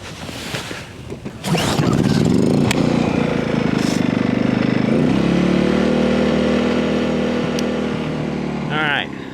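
Bilt Hard 2500W inverter generator running steadily at low idle, a close, even engine drone with a constant hum throughout after it settles, with a brief chirp near the end.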